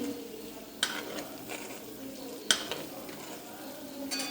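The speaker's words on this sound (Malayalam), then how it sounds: "ഇതിങ്ങനെ ഞാനിപ്പോൾ ഇളക്കുന്നതേ ഉള്ളൂ" Coconut oil being stirred in a pan while it gently sizzles, with occasional light scrapes and clinks of a utensil against the pan over a steady frying hiss, no voice.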